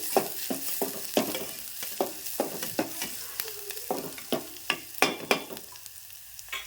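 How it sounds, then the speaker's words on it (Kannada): Onions being stirred and fried in oil in a pan over a medium gas flame for a village-style brinjal bharta. Close, rhythmic spatula scrapes come about twice a second over a steady sizzle, with no talking. "ಉಳ್ಳಾಗಡ್ಡಿ ಹಾಕಿ ತಿರುಗಬೇಕು ಒಂದು ಸ್ವಲ್ಪ ಗ್ಯಾಸ್ ಫ್ಲೇಮ್ ಮೀಡಿಯಂ ಮಾಡ್ತೀವಿ"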